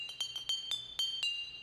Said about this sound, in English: what we're getting to happen here is the glass is vibrating.